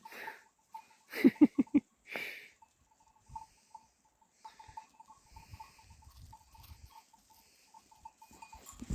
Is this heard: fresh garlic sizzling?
no